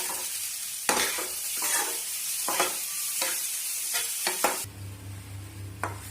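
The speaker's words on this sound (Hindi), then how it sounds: "इसी के साथ इसमें ये नमक डाल देंगे और ये हरा धनिया भी डाल देंगे और इसको मिक्स कर देंगे।" Potato tikki stuffing with salt and chopped coriander is stirred in a pan with repeated spoon scrapes over a gentle sizzle, then the scraping stops and a steadier sizzle with a low hum continues.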